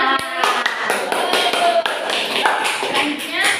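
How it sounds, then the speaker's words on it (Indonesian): A classroom audience applauding a group's presenter, a quick dense burst of many clapping hands close by, mixed with voices talking over it. "Tepuk tangan yang meriah untuk perwakilan kelompok 1"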